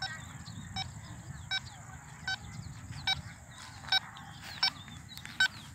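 A Quest Pro metal detector sweeping over buried metal gives a series of short, regular high-pitched beeps roughly every three quarters of a second, over a low rumbling outdoor background.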